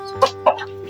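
A couple of short, sharp chicken clucks sound close by in quick succession, with a low background hum.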